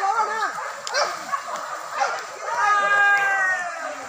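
Several dogs bark and yip continuously during a wild boar hunt in Pamatang Panjang, Sijunjung, with overlapping high-pitched yelps from a pack close by.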